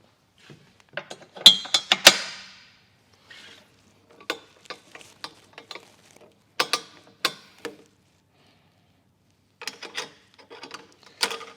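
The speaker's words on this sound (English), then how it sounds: "Just going to close the tyre carrier." A tyre carrier on a Lumberjack Birdsville camper trailer is swung shut, giving a series of sharp metallic clanks, rattles and clicks in scattered bursts, with quiet gaps between.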